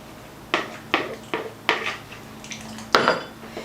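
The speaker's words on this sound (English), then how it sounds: "we're going to take our dry ingredients and we're going to add our wet to our dry" Wet ingredients go into dry ones for pumpkin cranberry scones in a bowl, with about six distinct clanks of a utensil against the bowl at uneven intervals, close and clear, the last one the loudest.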